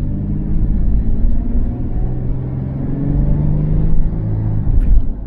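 A used Toyota 4Runner's engine accelerates under throttle, a heavy low rumble inside the cabin that builds gradually and steadily without any talk.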